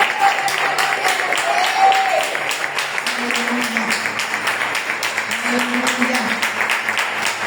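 A church congregation claps through a worship service, a steady rhythmic patter of hands running under sung and spoken voices, with sustained tones drifting in the background.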